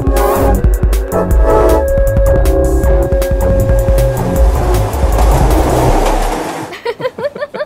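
A train rumbles along with heavy low roar and rhythmic clatter, loud and close, then thins toward the end into lighter, intermittent clacking, with no talking.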